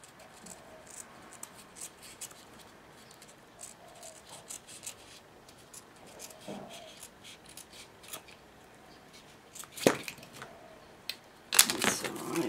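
Scissors snip at material for a Christmas ball craft, making quiet scattered clicks and rustles that end in a couple of louder sharp cuts close by.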